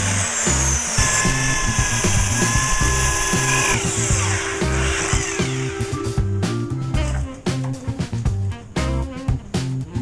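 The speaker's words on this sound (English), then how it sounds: "So now I need to drill a channel for the pickup cable to the input jack." A power drill whines steadily, drilling a pickup-cable channel in an electric bass guitar's wooden body, its pitch shifting under load, then breaks into rough, choppy grinding bursts toward the end, loud and close.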